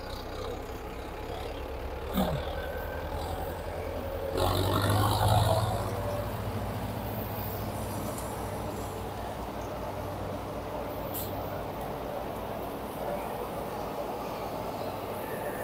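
A Mahindra tractor engine runs at a steady low idle, a continuous deep rumble that swells briefly louder for a second or two before settling back, with faint voices in the background.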